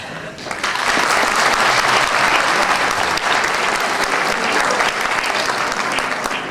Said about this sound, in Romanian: Vreau să știți că aceste aplauze vi se datorează